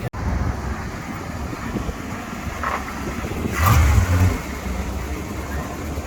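A Dodge Power Wagon pickup truck idles outdoors with a steady engine rumble and wind noise, then revs louder briefly as it drives up onto a car.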